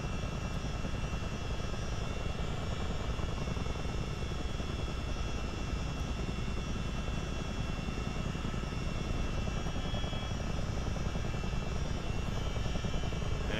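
A CH-47D Chinook helicopter in a flight simulator, flying a Great Lakes multiplayer route, gives a steady, loud engine and rotor drone that holds at an even level throughout with no talk.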